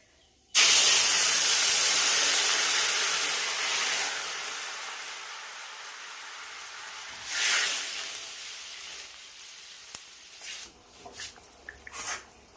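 Curry gravy poured into hot oil in a kadai erupts in a loud, sudden hiss and sizzle that slowly fades, swells again briefly, then settles into softer crackles and a few spoon clicks close by.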